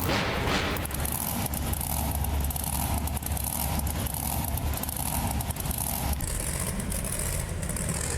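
A simulated Carolina Crusher monster truck engine from BeamNG Drive, set at a Monster Jam World Finals event in St. Louis. Its loud, continuous rumble holds steady throughout, with a gritty broadband roar over a deep low drone.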